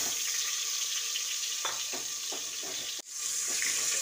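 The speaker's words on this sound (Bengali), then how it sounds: "এবার প্রথমে নুন হলুদ মাখানো আলুগুলো তেলের মধ্যে ছেড়ে দিচ্ছি।" Salted, turmeric-coated potato pieces drop into hot mustard oil in a pressure cooker, giving a steady close hiss of frying with scattered crackles and a brief break near the end.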